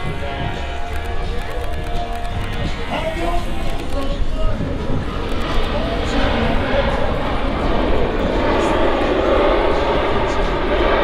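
An Emirates airliner arriving at Manchester Airport, heard from the Runway Visitors Park as a loud, swelling jet roar that builds steadily over crowd chatter and wind.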